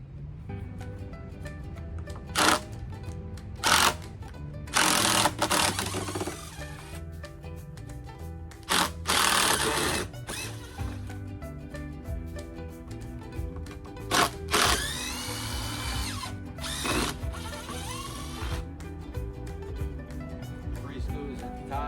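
A power drill removes screws from a knife and tomahawk throwing board in repeated short whirring bursts of a few seconds each, separated by pauses with handling clatter and scattered rattles.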